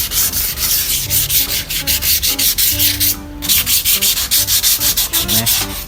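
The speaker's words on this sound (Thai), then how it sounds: "เพราะว่าเราได้ทำการขัดแลกเกอร์ออกแล้ว" Sandpaper rubbing lacquer off a Honda PCX motorcycle wheel in quick, loud back-and-forth strokes, each stroke a rhythmic scratchy rasp, with one brief pause midway and no talking.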